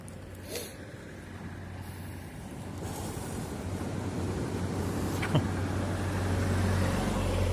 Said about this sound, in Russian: Миша, машина едет.